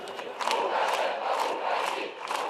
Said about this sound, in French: La foule appelle à la démission de cet autocrate.